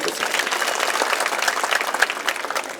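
A crowd at a Marathi political speech breaks into applause, dense continuous clapping close and loud for a few seconds, with a faint voice underneath.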